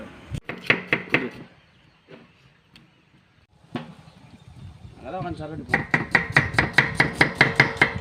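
Onions being chopped with a knife on a board, in a large batch for a biryani, with sparse heavy chops, a pause and a murmur of voices, then a fast, even run of loud close strikes.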